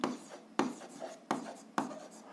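A pen writes out an answer to a seventh-grade algebra exercise on paper, giving four distinct scratchy strokes in a steady rhythm, close and fairly quiet, with no voices.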